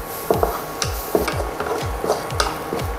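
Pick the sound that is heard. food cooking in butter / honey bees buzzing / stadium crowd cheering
food cooking in butter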